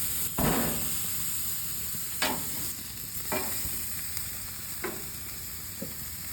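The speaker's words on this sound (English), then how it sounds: "When you get your grill good and hot, we'll get them on." Steaks sizzle on a hot grill in a constant hiss, broken by several sharp clanks and taps from handling at irregular intervals.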